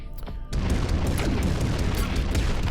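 A loud, dense blast in the side-scrolling game Environmental Station Alpha bursts in after a brief quieter lead-in, then rumbles on as a sustained booming, crackling roar for the rest of the moment.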